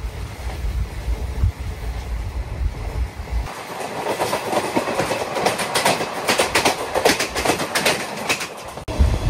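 Narasapur–Nagarsol Superfast Express running at cruising speed on the route toward Khammam in Telangana, with a steady rolling roar and rapid clickety-clack of wheels over rail joints, loud and continuous throughout.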